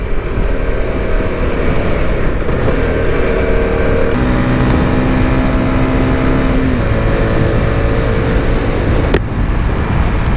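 A CF Moto 250SR motorcycle engine droning steadily while riding, with vibration in the low gears, a loud continuous hum with shifting pitch tones, buffeted by wind, and a short click near the end.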